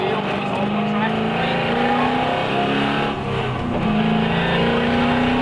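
A V8 Supercar engine pulls hard on a race track, a loud, sustained roar with rising pitch and a brief dip mid-way, under a driver talking throughout.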